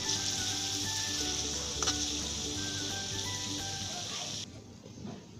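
Chopped onions and green chilies fry in hot oil for a shahi korma, giving a steady, close, bright sizzle throughout that drops off abruptly near the end.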